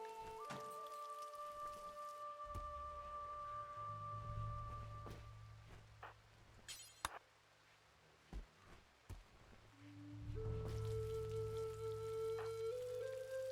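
Steady, faint rain patters on surfaces in the video game RimWorld, soft and continuous under quiet tonal background music, dipping briefly before swelling again.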